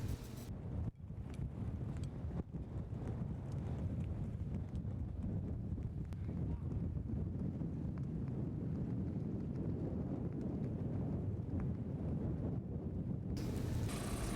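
Steady wind rumbles and rushes throughout on a boat anchored in Mission Bay, fairly quiet and continuous, with occasional faint thumps.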